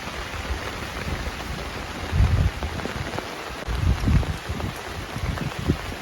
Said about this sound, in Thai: ฝนกำลังตกนะครับ